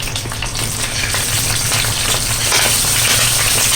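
Chicken wings fry in hot oil in a pan, giving a loud, steady, close sizzle that continues without a break.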